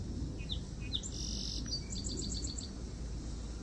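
Small bird chirping outdoors on a deck, a few quick high tweets followed by a rapid run of repeated chirps over a low background hum, fairly close and alone.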